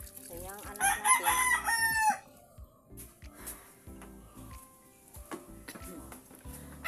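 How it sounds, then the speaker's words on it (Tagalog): A rooster crows loudly up close, followed by scattered chicken clucks and soft fowl noises over a quiet yard ambience in Zamboanga, Philippines. "Iyan ang mga manok."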